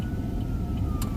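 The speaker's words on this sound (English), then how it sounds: "I hear sirens." Distant tornado warning sirens in Kansas wail faintly over a low rumbling background for a brief moment, with no one talking.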